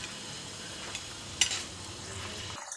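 Fish curry simmers in a pot with a soft, continuous bubbling hiss, one sharp utensil clink partway through, before the sound drops away at the end.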